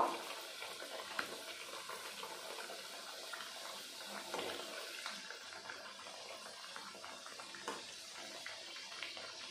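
Jamai adoor pitha, a sweet Bengali rice cake, frying in oil in a pan, giving a steady close sizzle and bubbling hiss with small spatters throughout, no voices.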